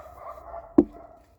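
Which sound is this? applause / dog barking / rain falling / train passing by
dog barking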